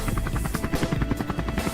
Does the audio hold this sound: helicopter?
yes